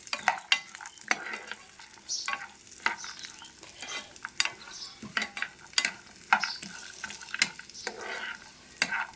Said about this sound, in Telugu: డ్రై ఫ్రూట్స్ వేయించేటప్పుడు గోల్డెన్ కలర్ రావాలి